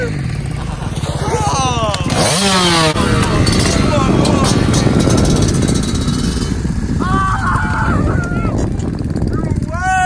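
A dirt bike engine revs loud and close, with a steady rough drone throughout and a few rising pitch sweeps. People shout and talk excitedly over the engine.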